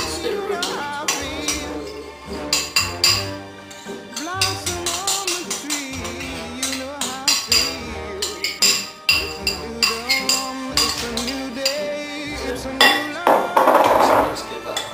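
A spoon stirs raisins and jelly into cream in a bowl for a Calypso cake, giving repeated clinks and scrapes against the bowl in an uneven rhythm, loud and close, with no voice.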